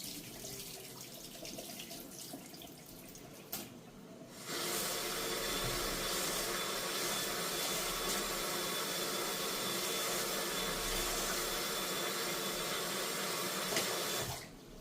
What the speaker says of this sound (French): L'eau est en train de bouillir là.